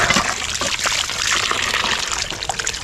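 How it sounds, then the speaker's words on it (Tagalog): Water pours steadily onto sugar palm fruit (kaong), giving a continuous close trickling and splashing stream with small bursts throughout. "Lagyan mo ng tubig na."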